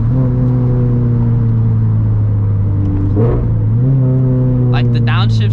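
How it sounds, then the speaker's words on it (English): A turbocharged Toyota GT86's exhaust drones loudly and steadily, then the pitch shifts with a brief change in revs and a crackle near the end. "I really like the exhaust tone."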